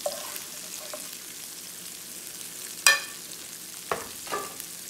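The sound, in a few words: peri peri fish and vegetables frying in a pan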